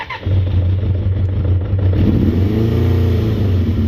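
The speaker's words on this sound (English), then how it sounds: "It's got some sort of an aftermarket exhaust on it, so it sounds insane." A 34-year-old Suzuki GSX 600F sport motorcycle with an aftermarket exhaust idling slightly low, rumbling steadily with a deep, throaty tone and rising revs near the end, loud and close by.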